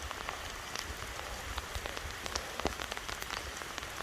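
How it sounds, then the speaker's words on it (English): Steady rain falls and patters on nearby surfaces, with scattered droplet hits standing out against a constant wash of hiss, alone and without voices. "it's raining."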